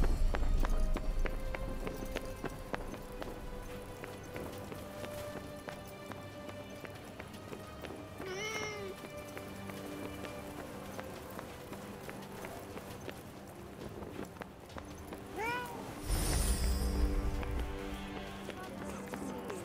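A cat in the video game Forspoken gives two short rising and falling meows, one near the middle and one toward the end, over continuous game music and busy background sound.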